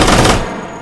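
A Vector submachine gun emptied on full auto in the VR game H3VR, one loud, dense burst of rapid shots that cuts off partway through and leaves a short decaying tail.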